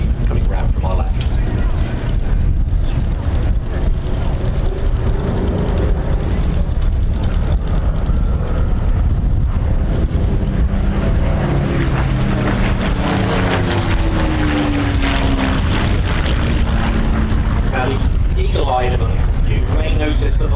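A formation of Spitfires led by MK912, a D-Day Spitfire, sweeps past at the Old Buckenham airshow, its engine drone rising and falling steadily beneath continuous commentary from a voice.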